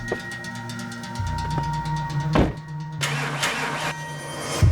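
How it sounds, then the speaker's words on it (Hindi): A car engine with a faulty starter cranks and catches, then settles into a steady, close mid-pitched idle while a mechanic checks it, with a brief rev partway through and no talking. "इसके स्टार्टर में थोड़ी प्रॉब्लम आ रही है, चेक करके देखो क्या।"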